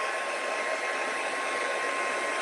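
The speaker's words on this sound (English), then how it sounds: "I'm just going to zap that again with the heat tool and just try and get that dry" An embossing heat tool blows steadily over a freshly painted white-embossed watercolour card, a continuous close whooshing hiss, like a hair dryer, that holds at an even level throughout with no talking.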